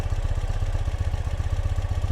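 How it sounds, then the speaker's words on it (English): A 2017 Ural cT motorcycle idles in neutral with a steady, low exhaust throb, its even pulsing rhythm continuous and close-up with no voices. "Nice sound from the exhaust."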